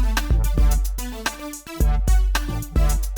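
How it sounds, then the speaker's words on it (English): Glitchy pop beat with a layered synth wah over punchy, booming kicks and a choppy, stuttering rhythm. Short, loud and without voices. "I put a couple synths together to make this wah."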